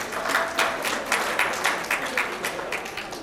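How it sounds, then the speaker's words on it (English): Round of applause from the audience at a talk on Caribbean integration, steady clapping from a modest crowd with rhythmic individual claps standing out, continuing through the whole stretch. "Let's have a round of applause for that"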